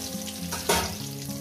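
Eggplant pieces fry in hot oil for a mustard eggplant curry, a dense, close crackling sizzle that swells into a brief louder burst midway.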